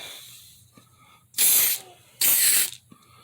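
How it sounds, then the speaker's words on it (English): Two sharp hissing bursts from an aerosol spray can, each lasting about half a second, separated by a short pause, close and loud. "And we're going to spray it."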